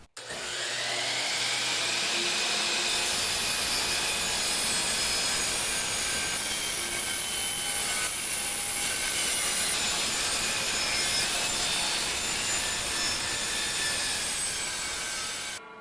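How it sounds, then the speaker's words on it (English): Power saw cutting a kerf through a wooden crown moulding jig: a loud, close, continuous whining roar with wood-cutting rasp, lasting the whole stretch before spinning down abruptly at the end. "The last thing to do now is to kerf cut the jig itself."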